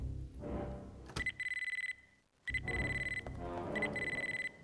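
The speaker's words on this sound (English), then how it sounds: "You have stopped the beeping of the pager." A pager in the video game Dino Crisis beeps in two bursts of rapid, shrill electronic tones. Low game ambience rumbles underneath, with a short gap between the bursts.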